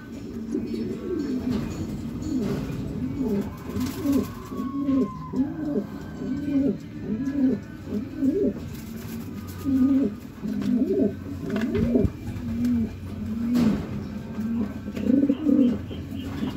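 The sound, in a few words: racing pigeons cooing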